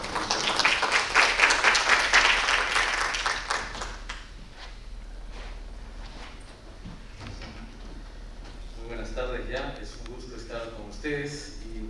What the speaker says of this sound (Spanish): Un aplauso, por favor, para el doctor Luis Manuel.